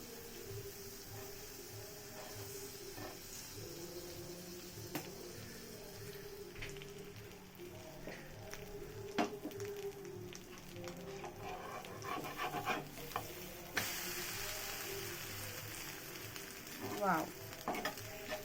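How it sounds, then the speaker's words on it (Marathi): Butter sizzles steadily in a pan next to a cooking bread omelette, with a continuous close frying hiss and occasional scraping stirs. "थोडंसं बटर मी परत ॲड करते साईडने।"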